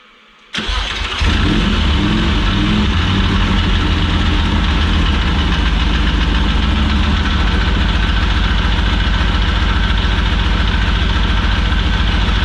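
A MOTUS motorcycle engine cranks and catches abruptly, then settles into a loud, close, rumbling idle that stays steady and throbbing for several seconds, with no talking.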